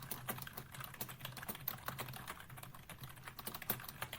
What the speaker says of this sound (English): just hearing you typing